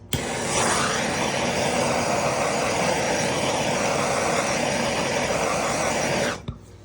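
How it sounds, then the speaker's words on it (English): A blowtorch roars steadily at close range over poured resin, a loud continuous hiss that cuts off abruptly just before the end. "I'm just going to hit it with the torch, so excuse the noise."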